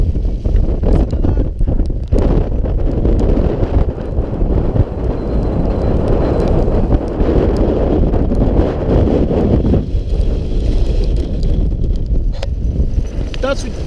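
A strong gale roars and buffets the microphone at an exposed hilltop wild camp on Hedgehope in July, with loud, unbroken, rumbling gusts throughout.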